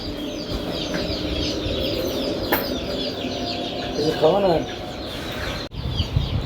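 Egyptian chickens on a farm cluck and squawk close by over a busy background, with one clearer cackling call standing out and some sounds that may be wing flaps, while a voice is heard at times.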